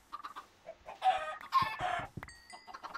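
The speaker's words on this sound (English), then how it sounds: "There's so many chickens." Chickens in a video game cluck and squawk in a flurry of short bursts, several overlapping calls rising to a louder cluster, fairly close and alone without talk.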